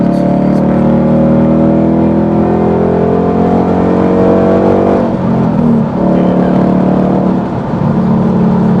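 A Ford Mustang with a straight-through exhaust revs loud and close, its throaty roar climbing steadily and then dipping briefly before surging again, with no talk over it.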